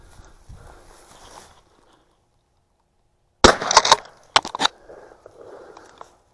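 Shotgun fired once at pheasants on a hunt, a sudden loud, close blast. A few sharp mechanical knocks follow, with quiet outdoor background before and after.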